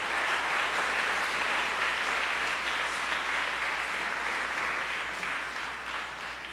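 A church congregation at an Easter Resurrection Mass applauds: steady, full-room clapping from a large crowd that keeps going and tapers slightly toward the end, with no voices over it.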